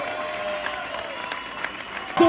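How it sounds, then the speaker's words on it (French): Audience applause at a French drift championship ceremony carries on at moderate level with crowd noise, brief and even, ending as a sharp louder sound cuts in. "On peut applaudir"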